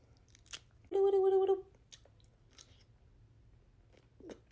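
Someone bites into Aldi shrimp, one short crunchy bite followed by quieter chewing, close up, with light background noise and no talk.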